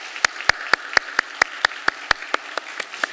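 Slow, rhythmic clapping in a church congregation during a Sunday service, about a dozen sharp, evenly spaced claps, loud and clear, gradually fading toward the end.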